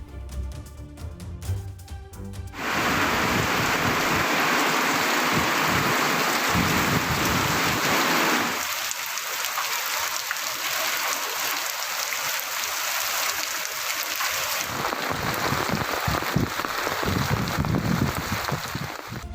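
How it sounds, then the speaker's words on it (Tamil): Heavy rain pours down during a sudden storm in Sivakasi, Tamil Nadu, with gusty wind and thunder. A loud, dense wash of rain runs steadily throughout, with no voices. "திடீரென இடி மின்னல் மற்றும் பலத்த சூறை காற்றுடன் கூடிய மழை பெய்தது"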